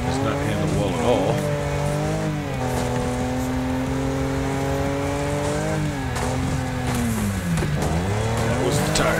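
Tires skid and squeal on a racing car in the Wreckfest video game under a continuous engine drone. The tones waver and bend as the car slides through turns, and speech sits underneath.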